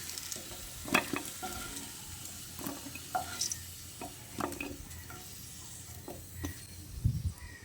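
Reddened fried potatoes are lifted out of sizzling oil, a quiet close frying hiss broken by scattered utensil clinks and scrapes against the pan.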